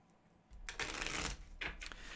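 Oracle cards being shuffled close by: a short rustling riffle followed by a second quick burst of card flutter, with no talking.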